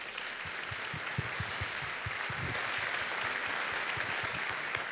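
An audience applauds two musicians at a theatre season presentation, with an even, moderately loud clapping from a seated crowd that holds steady for several seconds.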